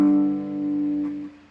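Electric guitar with a clean tone: a single smooth, undistorted note or chord rings out and fades over a second or so, close and alone.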